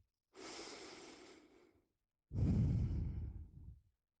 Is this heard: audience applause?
no